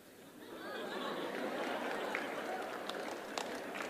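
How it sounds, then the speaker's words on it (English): Audience applause in a large hall during a live interview, with teachers clapping alongside students; a dense, steady wash of clapping swells in and holds, mixed with crowd chatter and murmuring. "Now, on this one, the teachers are clapping more than the students."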